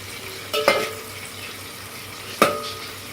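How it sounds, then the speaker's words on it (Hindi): A spoon scrapes twice through onions browning in a pot for peas pulao, two short clattering strokes over a steady low sizzle. "चम्मच को हिलाते रहें"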